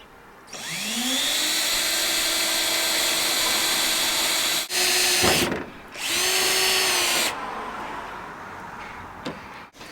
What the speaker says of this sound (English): Find your mark and drill it out.